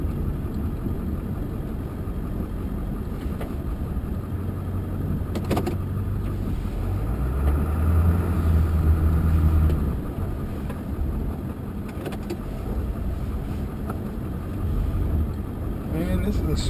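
A Ford F250 with a 7.3L engine plows snow in a small driveway. The engine drones steadily and swells louder midway as the truck pushes, with a low rumble and talk over it.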